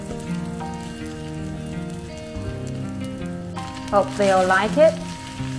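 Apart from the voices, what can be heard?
rice frying with quail eggs in a pan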